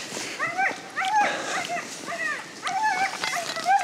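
Husky sled dogs at a ranch yelp, whine and whimper in repeated eager bursts, several voices overlapping nearby against a quiet background.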